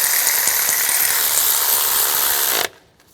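A power tool runs loud and steady, tightening a bell housing bolt during clutch replacement on a 2005-2010 Chevrolet Cobalt, then cuts off abruptly near the end and leaves a quiet tail.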